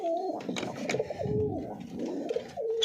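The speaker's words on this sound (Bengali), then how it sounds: "এই সাদা বেরিয়ে গেছে পায়রা" Domestic pigeons coo repeatedly at close range, soft rolling calls recurring every second or so amid light rustling.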